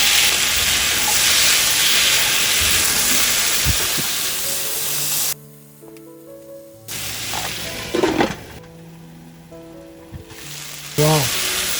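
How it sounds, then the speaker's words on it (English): Tomato drops into a pan of cooking potatoes and French beans, breaking a loud steady sizzle that cuts out, then returns as scattered crackling and spitting with a few sharp clatters. "Adding tomato."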